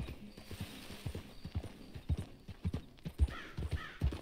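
Horse hooves clip-clop in an uneven, steady rhythm in the Red Dead Redemption 2 video game, with a faint mechanical clatter and background ambience.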